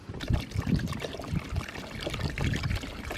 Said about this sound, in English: it's filtering through all the water reservoirs, and then you will see it start dripping right there into each section